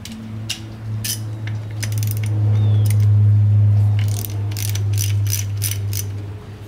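A ratchet wrench loosens three small nuts on a Ford 4000 tractor, giving repeated quick clicking bursts over a steady low engine-like hum, close and fairly loud.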